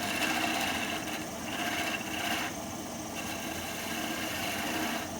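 A wood lathe spins a pine goblet blank turned from a 2x4 while light cuts are taken, giving a steady close whirring hum with a faint scraping texture and slight shifts in tone, with no talking.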